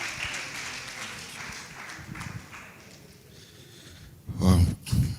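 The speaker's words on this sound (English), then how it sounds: "Clap better for him." An audience at a corporate summit in Dubai applauds in a steady, fairly dense patter that thins midway, followed by a couple of loud close bursts toward the end.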